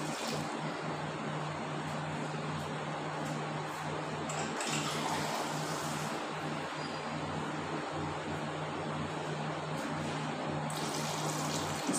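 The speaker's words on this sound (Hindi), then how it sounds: "इसमें मैं डालूँगी पानी।" Water pours steadily into a cooking pot of meat set on a lit stove, a continuous close splashing rush that runs the full length with no talk.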